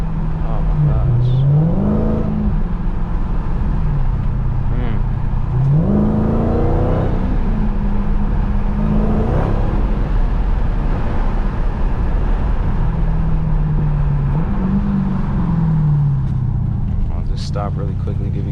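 A 2019 Dodge Challenger Hellcat pulling away, its engine rising through several rev sweeps over a steady loud rumble, with a voice talking over it throughout.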